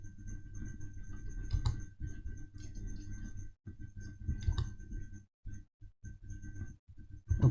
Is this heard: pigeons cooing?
no